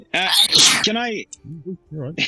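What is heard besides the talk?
sneeze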